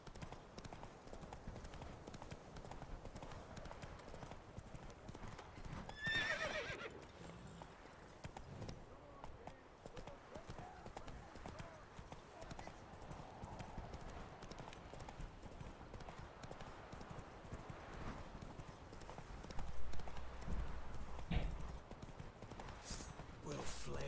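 Roach, a horse in The Witcher 3, trots with rhythmic clip-clop hoofbeats that carry on steadily throughout, joined by a short neigh and other game sounds and voices.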